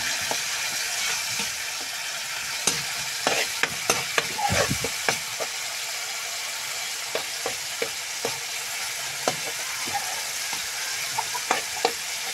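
Bitter gourd and egg fry in a pan with a constant sizzle, while a utensil stirs and scrapes in irregular clattering bursts. No one speaks.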